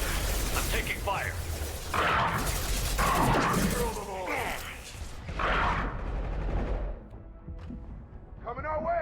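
Gunfire in the video game Mass Effect Legendary Edition, rapid shots and shattering impacts crackling through a loud, dense combat din, with voices shouting over the fight.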